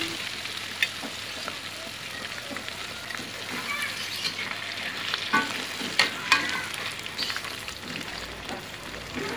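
Chicken wings deep frying: a dense, continuous crackling sizzle of hot oil with scattered sharper pops, steady and close.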